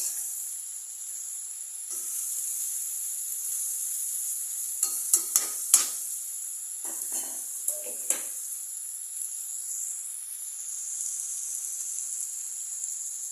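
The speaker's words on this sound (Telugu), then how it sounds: "ఇదో ఇట్లా ఫ్రై చేసుకోవాలి ఫ్రెండ్స్ ఆయిల్ చూడండి డీప్ ఫ్రై లాగా ఫ్రై చేయాలి" Bitter gourd deep fries in hot oil with a steady high bubbling hiss, broken around the middle by several brief, sharp crackles and stirring sounds, close and moderately loud.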